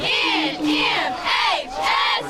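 A high school cheerleading squad at a Friday night football event shouts a rhythmic chant in unison, with three or four loud, drawn-out phrases echoing together.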